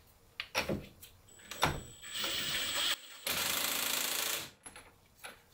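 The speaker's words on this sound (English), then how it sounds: "Use first the weakest setting on impact wrench." Pneumatic impact wrench tightening the fixing nut on a Showa SFF motorcycle fork leg during a fork rebuild, two sustained broadband hammering bursts of about a second each with clicks and handling noise around them, close and loud.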